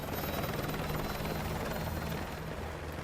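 A helicopter in a video game hums and thumps steadily, a continuous rotor drone heard alone at moderate level.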